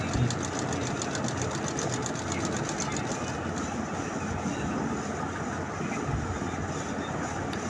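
A sewing machine runs in one steady burst of rapid, even stitching that stops partway through, followed by quieter room noise; the sound is close but moderate in level.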